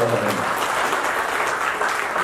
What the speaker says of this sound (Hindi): जोरदार तालियों के साथ में स्वागत करें।